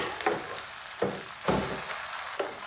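Mustard greens (saag) sizzle in a hot pan, a steady bright hiss of frying with a few soft stirring scrapes and bursts spaced through, close and even.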